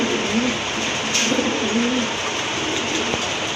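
Pigeons coo softly in low, rolling bursts, a few repeated calls over a constant background hum.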